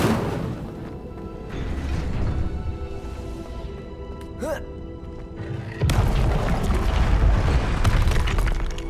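An Incendio fire spell is cast in the video game Hogwarts Legacy, with a loud booming whoosh and crackling blast over a continuous game soundscape, followed by a heavier rumbling burst.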